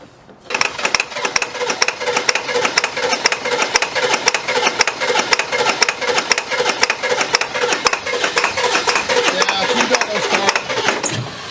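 A Ford Power Stroke diesel truck engine cranks on and on without catching, the starter's fast rhythmic churning loud and close from just after the start to the end.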